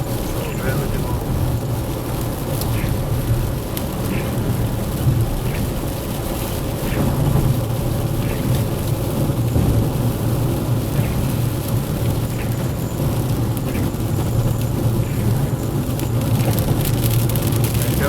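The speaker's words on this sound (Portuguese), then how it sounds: "E a chuva voltou." Steady rain falls around a moving car as it drives, a dense continuous wash with occasional low rumbles mixed in and light ticking of drops, heard from inside the vehicle.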